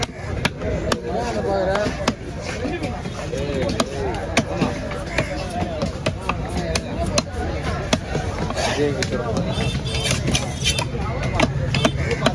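A knife chops pomfret fish at Kasimedu fish market in quick, sharp, repeated strikes, close and loud, while people talk nearby over a busy market background.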